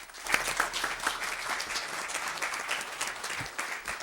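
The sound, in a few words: applause for the color guard at a city council meeting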